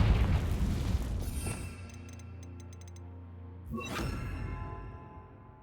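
Confringo spell cast in the video game Hogwarts Legacy: a heavy booming blast that decays, followed by a second whooshing burst.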